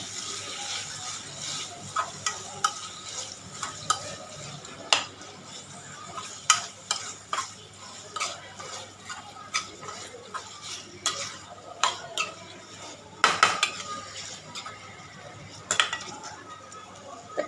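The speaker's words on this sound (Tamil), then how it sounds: "சிக்கனை கொஞ்சம் வதக்கிக்கிங்க எண்ணெயில்." Bone-in chicken sautéing in oil in a pan, a continuous sizzle broken by frequent metallic scrapes and clanks of a ladle stirring, close and fairly busy.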